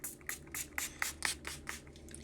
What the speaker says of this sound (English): So you'll spray that on your face